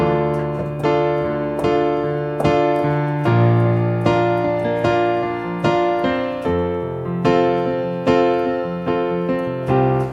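Solo piano plays a steady, resonant series of chords struck roughly every second with sustained ringing notes and a clear melody on top, close and alone with no voices.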